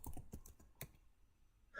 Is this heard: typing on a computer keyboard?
yes